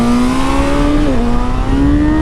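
A 2025 Honda CB1000 Hornet SP motorcycle engine revs loudly and close, its pitch rising steadily, dipping briefly, then climbing again in a continuous barking drone.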